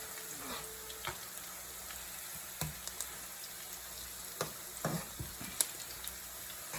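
Cumin and spices crackle in hot oil for a karhi pakora tempering, a steady sizzle broken by sharp pops and a few spoon and pan clinks, without speech.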